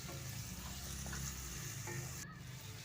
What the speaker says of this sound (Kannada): ಇದನ್ನು ಸ್ವಲ್ಪ ನೀಟಾಗಿ ಫ್ರೈ ಮಾಡ್ಕೊಂಬಿಡೋಣ ನಾವು